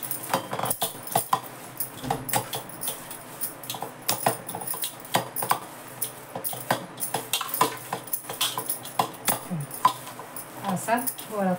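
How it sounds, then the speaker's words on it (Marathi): Cabbage Manchurian mixture, with unsqueezed shredded cabbage and food colouring, worked together by hand in a bowl: close, irregular wet squishes and light clinks of a vessel, quick and uneven throughout. "त्यात मी आता रंग घालते बघा आणि मग एकजीव करते."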